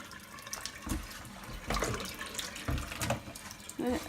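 Excess water poured out of a cooking bowl into a sink, splashing in several uneven bursts with trickling between, close by and fairly loud.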